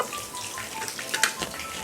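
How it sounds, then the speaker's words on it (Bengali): Koi fish fry in hot oil with a continuous, close crackling sizzle and a few brighter pops, and no one speaks. "বাকি মাছগুলো ভাজা হয়ে গেছে, এখন নামিয়ে নেব।"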